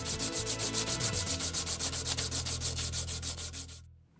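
Rhythmic back-and-forth sanding with a reinforced sandpaper strip pulled like a belt sander, about two dozen steady strokes close up, stopping abruptly near the end.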